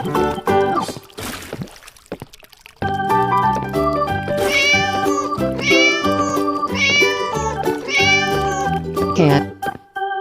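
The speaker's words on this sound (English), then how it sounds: "cat" A cartoon cat meows over and over in a run of high, bending cries. A brief breathy pause sits near the start, then the calls return loud and close with musical backing underneath.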